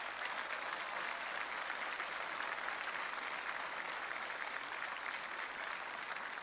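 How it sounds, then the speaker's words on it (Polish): An audience at a political meeting in Opoczno applauds in a continuous, even wash of many hands clapping, steady and moderately distant for the whole stretch with no voices on top. "Dlatego wielkie brawa dla tych ludzi, którzy tak pięknie pracują dla naszej Polski powiatowej."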